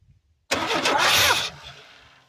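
Car engine cranking as the key is turned on an old project car being tried for a start, a single loud burst of about a second that cuts off and leaves a fading tail, no talk.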